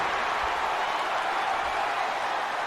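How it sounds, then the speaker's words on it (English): A wrestling crowd in Chicago roars and applauds in a steady, broad wash of noise, filling the arena continuously without any clear single voice. "This crowd getting into it, guys, here in Chicago tonight."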